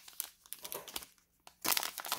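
Plastic wrapper on a 2020 NFL Contenders football trading card fat pack crinkling and crumpling as it is handled and opened, close and busy with irregular rustles, building to a louder burst of crinkling near the end.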